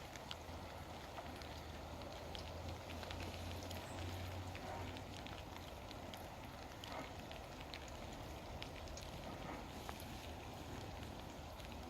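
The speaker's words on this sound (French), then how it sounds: "Au loin, on entend le torrent galoper avec les cailloux." A mountain torrent rushing over pebbles far off, a faint, steady wash of water with soft crackling detail and a low hum under it, continuous throughout.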